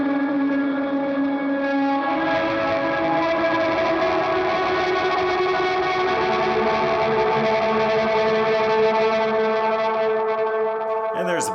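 Electric guitar run through an effects pedalboard on a drone setting, a sustained, layered chorus-and-distortion tone with steady harmonic bands ringing continuously and loud, ending in a brief pitch-bending swell.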